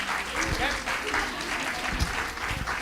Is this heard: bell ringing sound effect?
no